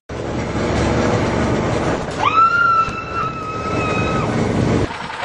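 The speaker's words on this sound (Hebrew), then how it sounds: "רכבת ההרים של שיכון אור." A roller coaster train at an amusement park runs with a steady, rolling rumble. A shrill metallic squeal rises midway and holds for about two seconds before fading back into the rumble.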